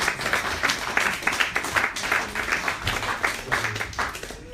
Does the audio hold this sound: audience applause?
yes